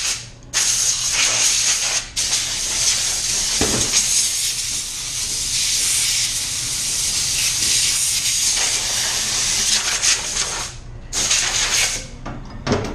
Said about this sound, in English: And I'll be spraying at around 38 PSI.